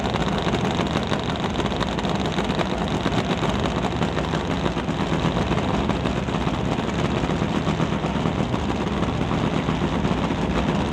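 Top Fuel Harley drag racing motorcycles at a drag strip qualifying session, their engines a loud, steady, rough roar that fills the whole stretch without letup.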